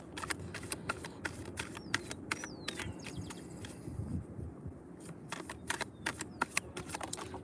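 Rapid papery riffling of tarot cards being shuffled, a dense run of soft clicks and flutters in short bursts, close and fairly quiet, no voices.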